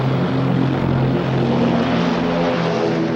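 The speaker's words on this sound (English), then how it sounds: "Planes are launched to respond to a threat in the area." WWII propeller fighter planes launching from an aircraft carrier deck, a loud steady drone of piston engines and airscrews with layered low harmonics, continuous throughout.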